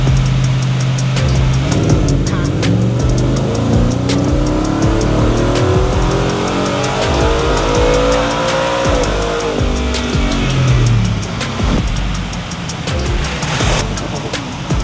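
A 2023 Ford Raptor R engine pulls on a dyno in one long, loud, rising run that peaks and then winds down, steady and close with no talk.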